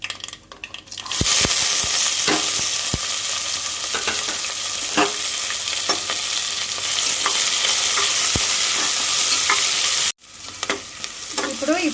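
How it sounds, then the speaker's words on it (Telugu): Onions and spices for a tempering sizzle loudly in a pan for a cabbage and moong dal curry, with scraping spoon strokes and clinks throughout and a brief break near the end. "ఇప్పుడు ఈ పోపుని బాగా మనం వేయించుకోవాలండి."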